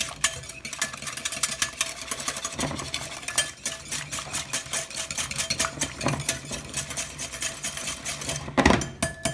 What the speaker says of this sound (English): we're just going to mix that up real good.